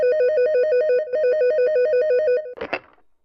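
An office telephone ringing with a steady electronic trill in two long bursts, loud and close, cut off as the handset is picked up with a short clatter.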